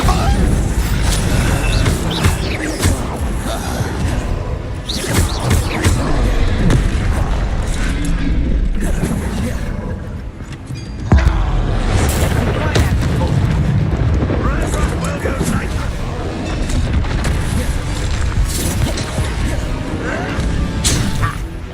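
Loud, continuous booming blasts and crashing impacts from the Bombarda spell in Hogwarts Legacy, dense rumbling combat noise throughout with a sharp fresh burst midway and talk mixed in.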